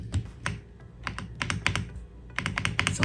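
Typing on an iRocks K85R white mechanical keyboard, with bursts of crisp key clicks in quick uneven runs and short pauses between them, close and clear with no voices.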